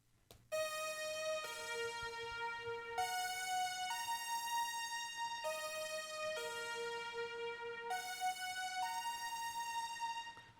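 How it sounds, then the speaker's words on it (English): A bright synth lead from the Roland SRX Dance Tracks Pulse Keys preset repeats a three-note pattern in even, sustained steps that cycle several times, clean and prominent with no voices. "It's 3 notes repeating,"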